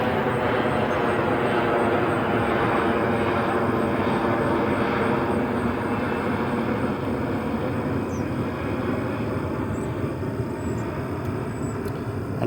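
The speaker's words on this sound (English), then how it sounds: "There's a plane going over me." A fixed-wing airplane passes overhead, its steady engine drone loud and continuous for the whole stretch, with no voices.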